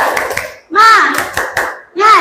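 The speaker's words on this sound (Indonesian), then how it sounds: "mari kita tepuk semangat" Children in an elementary school classroom clap and chant together in short rhythmic bursts, with loud young voices between the claps.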